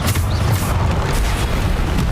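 A Bombarda blasting spell explodes in a video game, a loud sustained booming rumble with little break across its length, close and dense, no speech over it.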